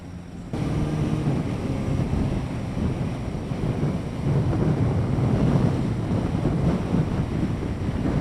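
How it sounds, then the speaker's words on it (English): Strong wind roars and buffets against the microphone, a loud, continuous rushing gust that builds and surges with no talking. "Is it me, or has it just gotten a whole lot windier?"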